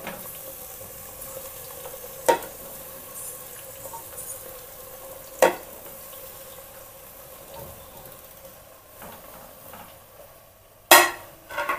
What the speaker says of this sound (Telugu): ఇలా వెజిటేబుల్స్ అన్నీ వేసేసి బాగా మగ్గనివ్వాలి